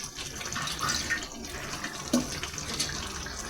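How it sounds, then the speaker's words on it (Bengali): Water poured into a pan of bottle gourd and prawn curry, a soft brief splashing pour, faint and close. "একটুখানি জল দেবো, অল্প জল মিশাবো"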